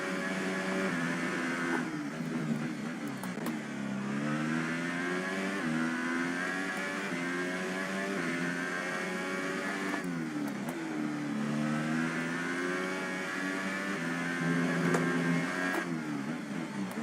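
In the F1 2018 racing game, a Formula 1 car's engine screams through repeated upshifts and throttle lifts, a loud, continuous whine that climbs, drops briefly, then climbs again, with no talk.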